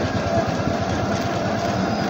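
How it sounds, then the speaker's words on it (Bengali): A bhotbhoti motor cart drives past on a rural road, its engine a steady, continuous low rumble and chug heard fairly close throughout, with no speech. "পাশে কিন্তু ভটভটি গাড়ি যাচ্ছে।"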